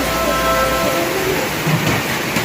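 Heavy rain pours down outside during an Eid trip in Jhenaidah, a dense, steady roar of rainfall filling the whole stretch with no voices.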